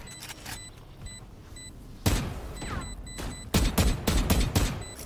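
A swarm grenade detonates in Valorant, a burst of sharp, loud popping blasts arriving in clustered waves after a quieter stretch, with several close cracks crowding the last seconds.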